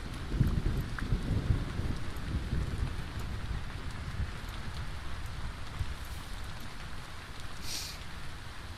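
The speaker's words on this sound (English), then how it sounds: "I just like hearing the rain." Steady rain falls throughout, with a dense, even patter and a low rumble underneath, constant and fairly close with no voices.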